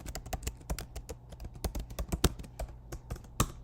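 Rapid typing on a computer keyboard, with crisp, uneven key clicks and occasional harder taps, close and clear with no talking.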